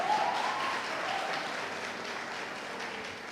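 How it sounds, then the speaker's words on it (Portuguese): Church congregation applauding after a pastor's sermon segment, a steady wash of clapping from a large crowd filling the room, fading slightly over a few seconds with a faint voice near the start. "Dá um aplauso aí, olha."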